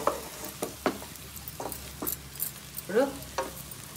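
Chicken fry sizzling in a pan, with spatula stirs and scrapes making irregular clattering bursts over a low steady sizzle, fairly faint; a voice speaks briefly.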